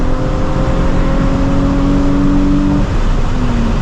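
A Nissan 350Z with a Megan Racing exhaust holds a loud, steady rev that drops off briefly near the end before settling back into a lower idle-like hum, with no talking.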